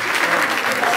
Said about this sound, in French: Applaudissez pour ces deux grandes personnalités.